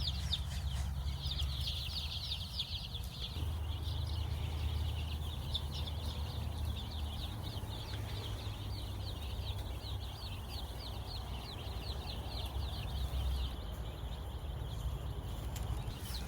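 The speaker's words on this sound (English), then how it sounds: "get in here and get them a nice little snack." Pastured laying hens clucking steadily in a grassy run as they snack, with repeated soft clucks and calls over a constant low background rumble.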